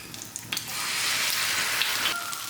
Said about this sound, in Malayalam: ഞാനിവിടെ ഒരൊറ്റ ഓംലെറ്റ് ആക്കിയിട്ട് ഫ്രൈ ചെയ്തെടുക്കുകയാണ്